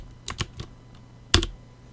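A computer keyboard is tapped for software shortcuts, giving a quick pair of clicks, a softer third, and then one sharper keystroke, quiet and close in a silent room.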